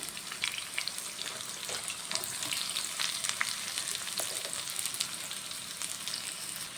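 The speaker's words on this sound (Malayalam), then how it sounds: "അപ്പോൾ നമുക്ക് അടുത്തത് ഉള്ളി താളിക്കാം കേട്ടോ" Shallots sizzle and crackle in hot oil for a sweet potato biryani, a steady close frying hiss dotted with sharp pops and occasional stirring, with no voices.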